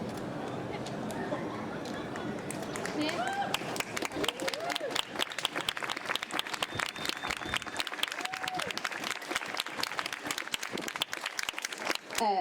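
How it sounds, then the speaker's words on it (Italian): Audience applause swells out of crowd murmur and a voice, building into dense, sustained clapping from many people that stays loud to the end. "Direi che questo applauso rende l'idea"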